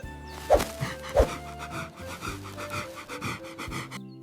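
A strong dog pants in quick rhythmic breaths close up, with a couple of sharper huffs near the start and light thuds beneath.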